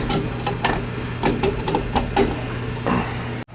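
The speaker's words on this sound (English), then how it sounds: "Cycle switch, cycling on and off." An oil furnace burner cycles on and off during a yearly tune-up, giving a steady low mechanical hum broken by repeated clicking, ticking bursts at an uneven rhythm, close and fairly loud, before cutting off abruptly.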